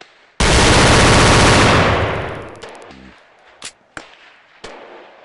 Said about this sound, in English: if you don't think you know the G18, let me know if this sounds familiar.